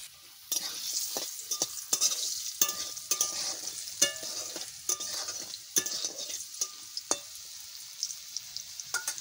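Eggs fry in a pan with turmeric and salt, sizzling softly up close while a spatula clicks and scrapes against the pan in irregular taps throughout.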